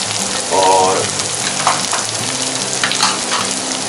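Chopped peeled carrot dropped into vegetables already frying in oil for biryani: a continuous close sizzle with a brief surge and soft stirring scrapes, no voices.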